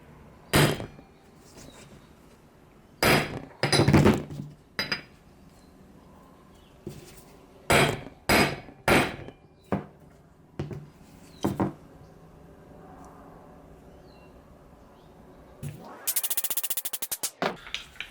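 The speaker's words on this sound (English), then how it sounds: "I'm going to use a 17 mil socket and a big fucking hammer." A big hammer strikes a 17 mm socket to drive out the aluminum pivot shaft of a Mazdaspeed 3: about a dozen sharp metallic blows, some in quick pairs, separated by pauses, then a brief harsh scraping burst near the end.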